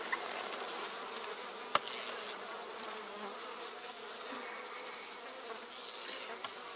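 Honeybees inside a hive in winter give a faint, steady buzzing hum, broken by a few soft clicks.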